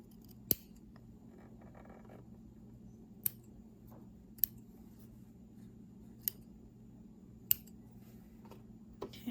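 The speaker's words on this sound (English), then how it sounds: "Gonna do some more of the trimming." Scissors snip fabric while trimming a sewn face mask, isolated crisp clicks spaced a second or two apart over a quiet room hum, close and faint, with no talking.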